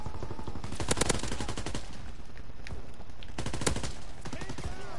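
Rapid gunfire in Call of Duty WWII online multiplayer, with dense bursts and single loud shots coming in clusters, including shotgun blasts, close and continuous, along with faint voices.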